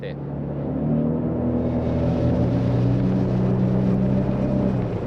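A Suzuki DF250 outboard engine on a Tullio Abbate Sea Star 22 RS boat accelerates, its close, steady droning roar building and holding with rising tonal whine and water rumble.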